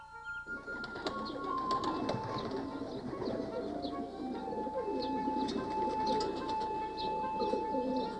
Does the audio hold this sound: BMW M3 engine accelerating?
no